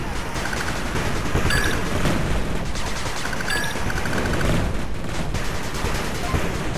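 Constant rapid gunfire and bursts from an 8-Bit Armies PC strategy battle, with minigun and machine gun turrets and troopers firing at once, loud and dense throughout with no pauses.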